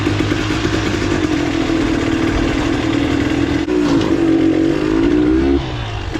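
A Husqvarna TX300i two-stroke engine on a three-wheeler runs close up on a test ride, a steady buzzing drone that rises in pitch as it revs, then eases off near the end, with no talking.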